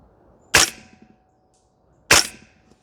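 CYMA MWS gas blowback airsoft rifle fired on a range: two sharp, loud single shots about one and a half seconds apart, each with a quick mechanical clack and short decay, close by with no talk.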